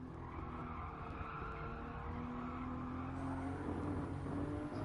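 The tires of a Toyota GR Supra skid in a Gran Turismo Sport race, a sustained squeal over steady engine drone that grows slightly louder toward the end, with no talking.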